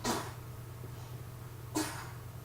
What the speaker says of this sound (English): It was just my little one sneezing over on her play mat there.